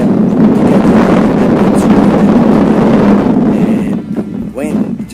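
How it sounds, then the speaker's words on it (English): Strong outdoor wind batters the microphone with a loud, steady rumbling roar at a timber-frame building site, easing slightly toward the end where a voice briefly speaks. "And wind just picked up."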